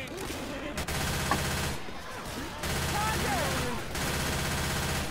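Gunshots in Left 4 Dead 2: steady rapid automatic fire rattles almost nonstop with brief pauses, loud and close, while game voices and effects play in the background.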